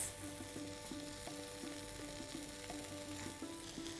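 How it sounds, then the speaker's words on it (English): Tofu and broccoli being stirred with gochujang in a pan for Korean fried rice, a faint steady sizzle with regular soft scraping strokes of the spoon, no voices. "Now we're just going to mix all this so that the tofu and the broccoli get coated with all these spice pastes."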